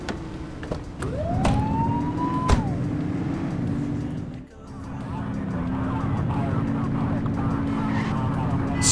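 Police cruiser in the game The Precinct, its siren whooping up in a short rising wail over a steady engine drone, with tyre noise and a brief dip before the engine swells again, close and loud.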